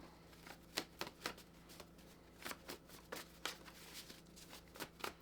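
A deck of journal prompt cards shuffled by hand in a quiet room, with repeated crisp riffling bursts in an irregular rhythm, close and fairly soft, with no talking.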